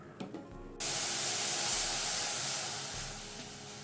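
Melted jaggery syrup is strained into a kadai, starting as a sudden, steady, close rush of pouring liquid. The hiss holds for a few seconds and then slowly eases.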